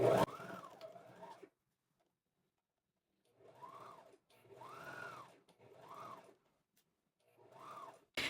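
A sewing machine stitches a seam with a backstitch at the start, sounding in several short whirring bursts separated by pauses, close by and fairly quiet.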